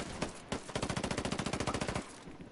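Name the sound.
gunfire in the video game Ghost Recon Wildlands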